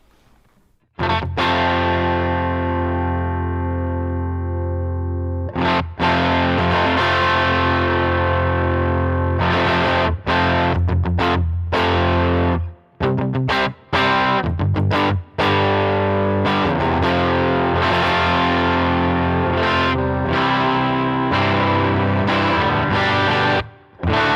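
A heavily distorted electric guitar plays loud sustained chords and chugging riffs through a high-gain amp model on a Line 6 HX Stomp, with brief gaps between phrases.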